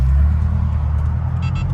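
A BMW M5 with a suspected fault that leaves it slow pulls hard, its low engine drone steady and loud with road noise around it.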